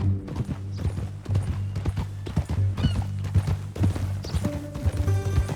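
Horse hooves clip-clop in Red Dead Redemption 2, a steady trotting rhythm of close, distinct hoofbeats on ground, repeating evenly over a low musical drone.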